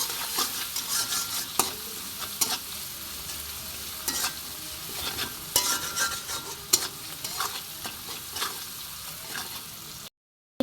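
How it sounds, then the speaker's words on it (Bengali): Onion, spring onion and green chili fry for noodles, giving a continuous close sizzle with repeated sharp stirring taps and scrapes for about ten seconds, then a brief dropout. "আমি পেঁয়াজ পেঁয়াজ পাতা মরিচটা একটু ভালো করে ভেজে নেব"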